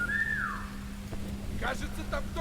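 A character in the War Mongrels video game gives a single rising-then-falling whistle to lure a guard, brief and clear at the start, followed by soft game sounds over a steady low hum.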